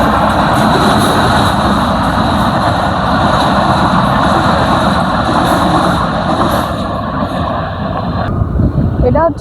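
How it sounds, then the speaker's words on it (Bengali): A small local passenger train passes close by with a loud, steady rumble and rush of wheels that fills the whole stretch, then eases slightly toward the end. "যাওয়ার সময় এখন এখান থেকে হলো ট্রেন যাচ্ছে"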